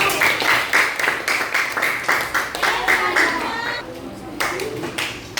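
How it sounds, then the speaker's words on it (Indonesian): A school class claps together in a steady, rhythmic beat that stops briefly near the end and then picks up again, close and loud, with children's voices mixed in. "tepuk tangan buat kita semua"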